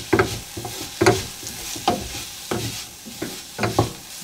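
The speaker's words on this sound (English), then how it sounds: "Let's add in our garlic and our onion. So you want these to be softened." Garlic and onion softening in vegetable oil in a pan, a close sizzle broken by repeated scraping stirs and clinks at an uneven rhythm, no voices.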